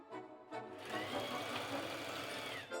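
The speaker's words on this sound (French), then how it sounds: "faites une piqûre de maintien à 5 mm du bord tout autour du haut de votre sac" Sewing machine running steadily while topstitching 5 mm from the edge around the top of a bucket bag in bouclette and faux leather, two short bursts first, then a continuous close whirring run.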